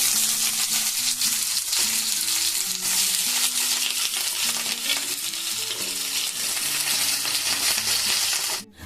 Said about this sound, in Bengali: এখন আমি এই পটল আর আলু ভেজে নেব